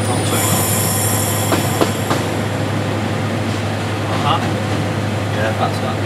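Deltic diesel locomotive 55019 brakes on the Severn Valley Railway, heard from the cab as a loud continuous rumble with rail clatter and intermittent squealing wheels, while people talk over it.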